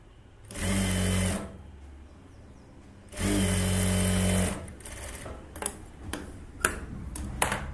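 A sewing machine stitches a hook patti onto a blouse in two loud sustained bursts of motor hum and needle clatter, then stops, leaving quieter clicks and taps.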